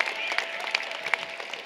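A crowd at a university commencement ceremony applauds, a brief, dense wash of many hands clapping with scattered sharper claps standing out, steady and fairly close.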